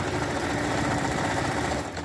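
A sewing machine stitches through the thick gusset of a jersey leotard, running as a steady, continuous mechanical whir with a fast rapid rhythm, close and fairly loud with no talking.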